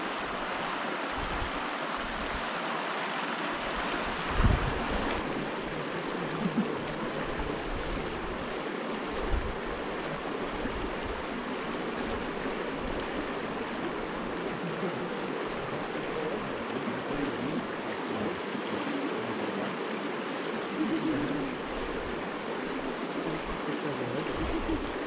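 A creek and small waterfall rush steadily beside Lussier Hot Springs in Whiteswan Provincial Park, British Columbia, a close, continuous roar of flowing water with a few faint thumps.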